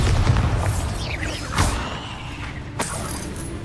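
A Bombarda spell goes off in the video game Hogwarts Legacy, with a deep booming blast at the start, another sharp burst midway and a crack near the end over a rumbling, mechanical game background.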